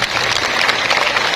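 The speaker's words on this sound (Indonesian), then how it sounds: "Semua tepuk tangan untuk Sanggar Gentorang" Audience applause for the Sanggar Gentorang performance group at an outdoor show near the sacred Pura Goa Lawah temple site, a steady dense wash of many hands clapping close and loud throughout.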